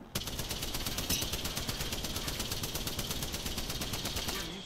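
Spitfire machine gun in a battle royale shooter game firing in one sustained rapid burst, loud and close, with a steady rattling stream of shots running the whole length and no pause between rounds.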